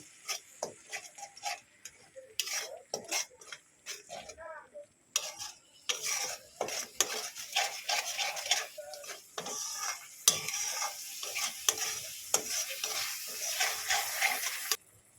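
Spices with cumin paste frying for topse fish curry, intermittent close sizzling bursts with repeated clicking and scraping stir strokes, no talk.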